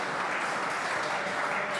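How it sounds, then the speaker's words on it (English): Faithful fans at an AFL football match applaud warmly as players leave the ground, a steady wash of distant crowd clapping heard faintly through the stadium ambience. "Warm applause from their faithful as they go back into the rooms"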